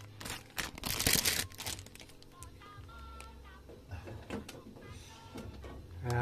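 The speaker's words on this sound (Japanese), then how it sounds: "ハサミで切りましょう。" Scissors snip open a thin plastic pack holding three grey water-absorbing sponges, giving crisp crinkling and cutting sounds that are loudest early on, followed by softer rustling and handling noises.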